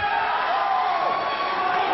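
A wrestling arena crowd at an NWA World Title match between Sabu and Steve Corino roars and jeers in a steady, dense wash of shouting voices, with no break in the noise.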